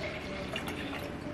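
Sauvignon Blanc wine is poured into a glass, a soft, close liquid trickle and gurgle running steadily throughout.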